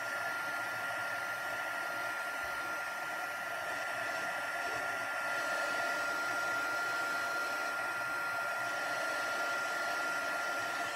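A heat embossing gun runs steadily as it melts embossing powder on a greeting card, a continuous close, even airy whoosh with a faint whine that holds without pause for the whole stretch.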